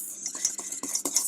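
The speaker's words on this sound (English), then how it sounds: "Stir that in." A utensil stirs vanilla into a chocolate mousse mixture in a bowl, giving short, close scraping and clinking strokes in a quick irregular rhythm.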